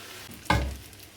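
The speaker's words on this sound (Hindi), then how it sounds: "चम्मच की मदद से अच्छे से हम इसे मिक्स कर देंगे।" Spaghetti and vegetables are stir-fried and mixed with a spoon, producing one sharp close scrape and sizzle burst midway that fades out over a quiet hiss.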